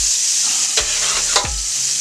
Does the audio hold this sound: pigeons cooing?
no